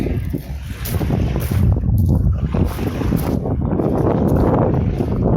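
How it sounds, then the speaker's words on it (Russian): Surf waves and strong wind on the shore of the Yeysk Estuary, a steady, loud rush of wind buffeting the microphone over breaking water, with no voices. "Шум, прибой."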